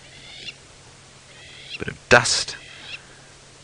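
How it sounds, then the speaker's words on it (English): Crowned lapwing giving repeated short, high, harsh alarm calls at intervals during an early-morning safari drive, set against a quiet outdoor background, with someone speaking briefly as a loud close rustle or bump cuts in partway through. "the bird complaining bitterly at me is a crowned lapwing, and it's the one that's making the noise"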